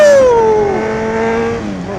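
A single vehicle engine on a busy Saturday road drones close by, its pitch sliding down steadily as it passes and settles to a lower hum.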